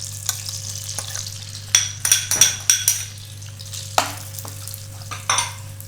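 Poppy seeds roasting in melted ghee hiss softly while a spoon scrapes and taps the pan in quick bursts, a low steady hum running underneath throughout.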